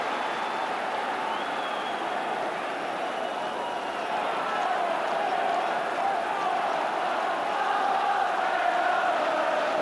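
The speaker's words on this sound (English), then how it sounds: "the crowd are enjoying this now" A large crowd in a football stadium during a 1994 Champions League match between Rangers and Borussia Dortmund roars with a steady, broad wash of distant cheering and chanting that holds throughout.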